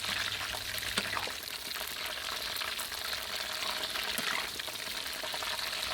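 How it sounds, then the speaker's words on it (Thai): Chicken pieces fry in hot oil turned up to high heat to crisp the outside, giving a dense, steady sizzle and crackle close by. It continues without a break, and no one speaks. "ท้ายนี้เราก็จะเร่งไฟนิดนึงนะครับ เพื่อให้ด้านนอกเนี่ยกรอบไม่อมน้ำมันนะครับ"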